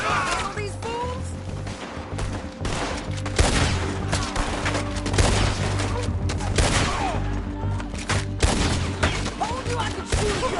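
A Red Dead Redemption 2 shootout near rocks crackles with repeated gunshots, overlapping volleys and single cracks firing loud and close throughout, while characters talk amid the fighting.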